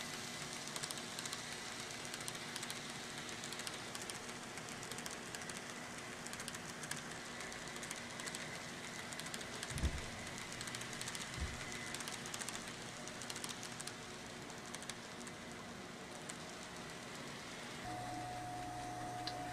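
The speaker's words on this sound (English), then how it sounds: "Here we see the train passing through one of the many snow sheds" An N scale model train rumbles steadily along its track with a continuous rolling clatter and faint hum, a brief knock midway and a steady tone near the end.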